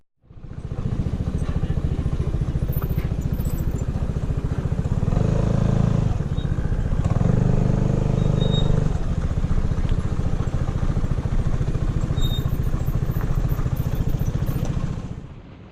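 Vespa scooters ride along a road in Mexico, their small engines droning steadily and loudly up close, with wind buffeting and a couple of swells in engine note as they press on.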